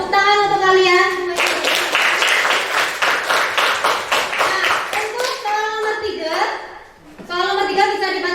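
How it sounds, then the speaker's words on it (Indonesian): Classroom students clap together in a loud, dense burst lasting several seconds, with children's voices heard just before and after. "Tepuk tangan untuk kalian."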